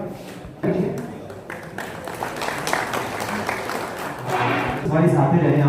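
An audience claps loudly for a man getting back his recovered stolen phone, a dense, sustained round of applause heard close up that swells louder toward the end.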